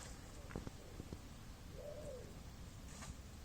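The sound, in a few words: pigeon cooing in a tree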